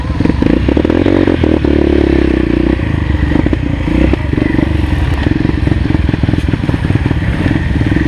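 A dirt bike runs loud and close on a rough, rugged trail, its engine droning steadily under clattering, scraping and thudding impacts from the bumpy ground.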